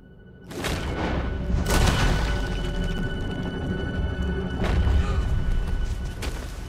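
Gunfire in the Western video game Red Dead Redemption during a duel: a sharp boom near the start, another loud blast around two seconds, then a third heavy shot late on, with a rumbling, echoing tail between them and no talk.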